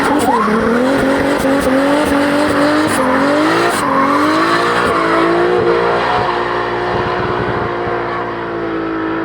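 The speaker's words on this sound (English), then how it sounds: "Hert's down there doing like Aussie style burnouts." A 600hp Lexus GS 300 does burnouts, its engine roaring loud and close while the tires squeal in long, rising and falling wails that ease off toward the end.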